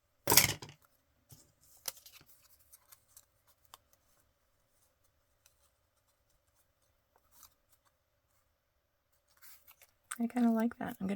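Scissors cutting out paper numbers: a handful of faint, scattered snips and small paper rustles close by in a quiet room, between a sharp knock at the start and a person talking at the end.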